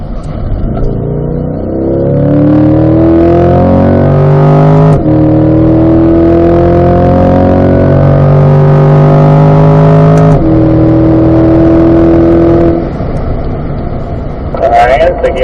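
A C8 Corvette accelerates hard around a race track at a performance driving school, its engine loud and close as the pitch climbs through several gears with sharp upshift breaks, while an instructor talks over it.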